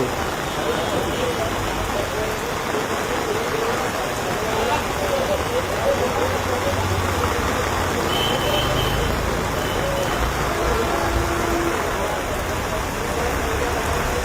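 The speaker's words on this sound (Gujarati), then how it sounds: "સતત મેઘો આ રીતે વરસી રહ્યો છે." Steady heavy rain pours down in Vadodara, a dense constant hiss close by with no letup, and faint distant vehicle noise beneath it.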